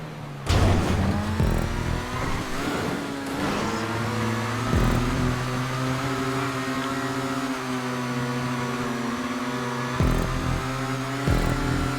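An Annis S80RR race car engine in GTA 5 Online revs and accelerates hard on a lap, a steady loud droning roar with rising pitch and several sharp gear-shift bursts.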